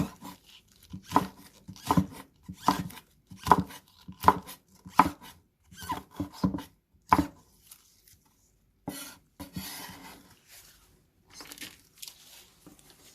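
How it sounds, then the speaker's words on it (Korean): A knife chops green and red chili peppers, seeds and all, on a board: a brisk run of about a dozen sharp, close chops, then quieter, scattered taps and rustles. "씨까지 그냥 썰어주세요"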